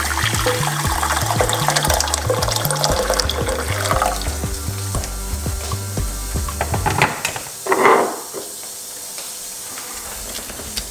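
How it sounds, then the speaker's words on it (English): Hot water is poured into a cup over banana peel for tea, a hissing, splashing pour beneath music, ending with a short louder gush before fading. "1 cup of hot water"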